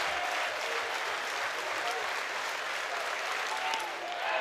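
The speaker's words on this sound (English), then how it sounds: "Crowd trying to help Ruger Riojas." A crowd at a college baseball game between Texas and Oregon applauds and cheers steadily for the pitcher, a broad, even wash of clapping heard from a distance with no clear peaks.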